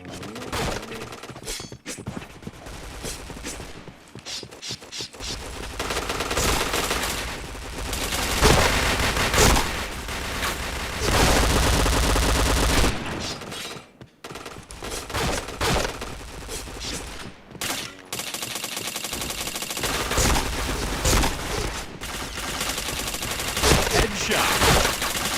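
Gunfire in the PointBlank online shooter game: sustained bursts of loud automatic rifle fire and rapid shots over long stretches, dense and close, broken by a few short pauses.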